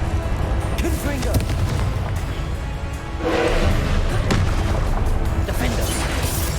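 Confringo blasting spell in the video game Hogwarts Legacy bursting in an explosion midway through, a swelling boom over a dense, continuous din of combat effects, with a voice calling out.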